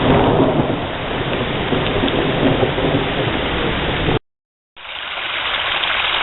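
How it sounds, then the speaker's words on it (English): A heavy spring rain deluge at a pond pours down in a loud, dense roar with rumbling thunder, broken by a brief silent gap before the downpour resumes. "Spring rain,"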